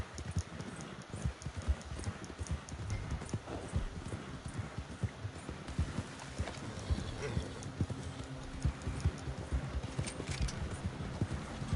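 Rapid clip-clop of horse hooves in the video game Red Dead Online, a brisk galloping rhythm of dense hoof strikes at close range, running steadily throughout with no talk.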